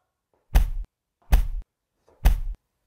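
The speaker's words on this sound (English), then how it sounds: "Stomp." Three heavy thuds of a foot stomping on a carpeted floor, evenly spaced about a second apart, close and loud with silence between, each preceded by a faint soft sound.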